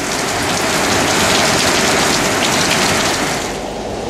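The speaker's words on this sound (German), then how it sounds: "draußen eine echt heftige Regenschauer runterging" Heavy rain pours in a dense, steady roar outside a roadhouse in Australia, loud and close, tapering slightly at the end, with no voices.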